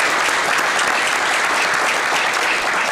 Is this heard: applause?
yes